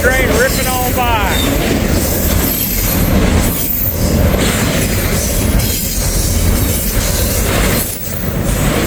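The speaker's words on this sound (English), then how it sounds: "The train ripping on by." An intermodal train roars past close by in Walton, a loud continuous rumble of rolling wheels with high metallic squeals and rattling over the tracks.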